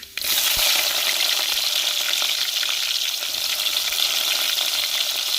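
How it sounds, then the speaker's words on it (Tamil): Chopped onions go into hot oil in a pan for a Goan anchovy fish curry, landing with a sudden burst and then settling into loud, steady, close sizzling and crackling. "வெட்டி வச்ச வெங்காயத்தையும் சேர்த்துக்கிறோம்"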